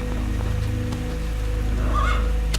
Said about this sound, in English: It rains for like what, a couple seconds?